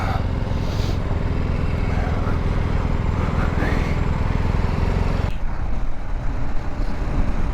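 A small motorcycle engine drones loud and steady close by, then the sound shifts and drops as it rides off.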